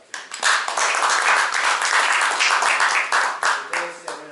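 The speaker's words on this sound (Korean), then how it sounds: "Please give him big, loud applause." Big, loud applause from the audience at a national firefighting seminar in Korea, a dense burst of many hands clapping close and strong, thinning into a few scattered claps at the end.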